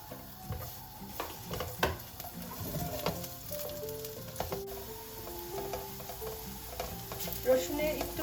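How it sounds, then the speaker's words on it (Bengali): Chopped garlic frying in hot oil in a pan for a spaghetti meat sauce gives a steady, close sizzle with occasional stirring scrapes, under background music throughout. "তেলের সাথে আগে অ্যাড করে দিচ্ছি আমি রসুন, যেটাকে কুচি করে রেখেছি। রসুনটা একটু ভাজা ভাজা করে নেব।"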